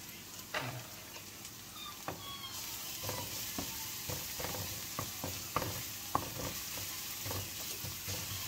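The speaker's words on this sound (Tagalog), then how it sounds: "I'm cooking our chili garlic sauce" Chili garlic sauce sizzles steadily as it fries in a pan, with scattered clinks and scrapes of stirring throughout, close and fairly quiet.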